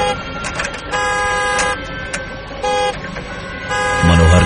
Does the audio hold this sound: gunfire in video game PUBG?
no